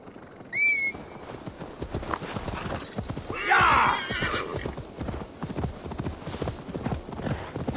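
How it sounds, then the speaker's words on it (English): A horse in the video game Assassin's Creed Valhalla gives a sharp whinny, and its hooves clip-clop steadily on a path. A second, longer neigh follows partway through, over low game ambience. "Now to deliver Magni's horse."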